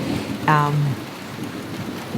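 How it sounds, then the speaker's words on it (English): Rain falls outdoors in Florida with steady, hissing patter on surfaces and trees, joined by a brief tonal chirp near the start. "I'm looking at this rain and I'm looking at the wind and the trees"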